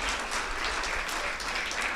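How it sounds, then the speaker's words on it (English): A church audience claps together in a brief, steady burst of applause, moderately loud with an even texture and no break. "You can clap for them."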